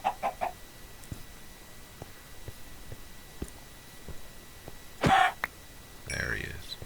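Chickens in a Minecraft modpack game cluck in short bursts near the start and again around the middle and end, moderately loud against a quiet background, with a person speaking nearby.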